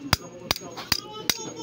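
Hammer striking a tool while fitting parts with a drill, four evenly spaced sharp, loud knocks close to the mic over a faint background murmur.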